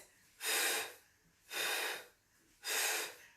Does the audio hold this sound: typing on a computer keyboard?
no